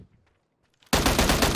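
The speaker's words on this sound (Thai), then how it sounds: "ได้ยินเสียงปืนกูไหม" Automatic gunfire in the battle-royale video game PUBG bursts in loud and close after near silence, a dense rapid string of shots that continues to the end.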